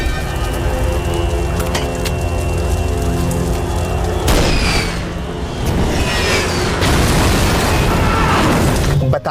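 A missile streaks overhead and explodes in an action film scene, a loud roaring rush giving way to a sharp blast and crackling debris, booming and dense over a musical bed.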